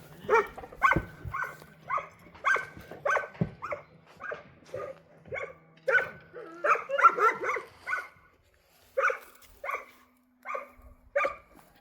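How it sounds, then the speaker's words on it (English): A dog barks again and again in short, sharp bursts from close by outside a stone house in a Bulgarian village. Some barks come in quick clusters, with brief pauses between runs. "I got a doggy at the moment which don't like me."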